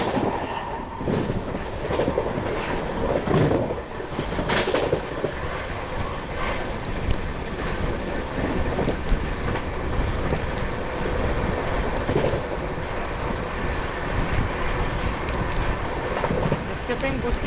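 Delhi–Gaya Amrit Bharat Express 13698 running at speed while overtaking a parcel train, a steady loud rumble of wheels and carriages heard from on board, with brief clatters and voices faintly in the background.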